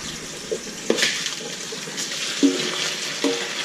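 Water running through orchid growing medium as it is rinsed clean of dirt and clay dust, a continuous faint trickle and splash with a few sharper knocks and clatters.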